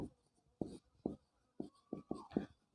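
Chalk or marker strokes on a board during a physics lecture, a series of short separate scratchy taps and squeaks spaced irregularly, close and fairly quiet with no talk.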